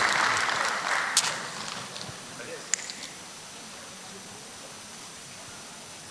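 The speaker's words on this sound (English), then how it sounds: "we'll exit the stage with a round of applause" Brief applause from a business roadshow audience in Lagos as a panel leaves the stage, fading within two seconds into a low murmur of room noise with a few faint knocks.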